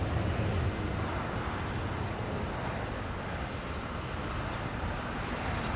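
A United airliner departing LAX, a broad, steady roar of jet engines that holds at a moderate level and eases very slightly over a few seconds, with no voices.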